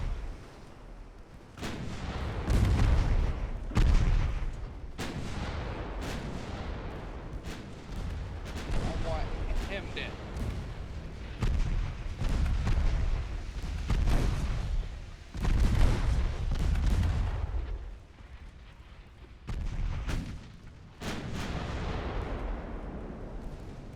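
Naval guns fire in the warship strategy game Ultimate Admiral Dreadnoughts, heavy booming salvos recurring irregularly throughout, some overlapping, with someone talking over the battle.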